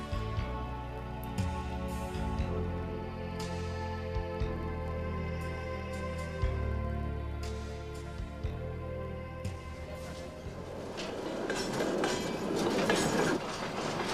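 A train on the Siberian Railway between Irkutsk and Novosibirsk rolls along the rails with a steady clickety-clack rhythm and a low rumble, joined near the end by louder rushing noise.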